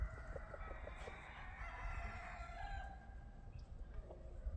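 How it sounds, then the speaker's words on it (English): A rooster crows once, faint and somewhat distant, its call rising and trailing off over low background rumble. "You're a nice rooster."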